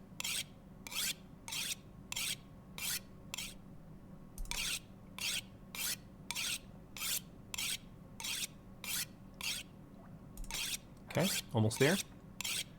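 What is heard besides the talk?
sharpening an axe, from video game The Long Dark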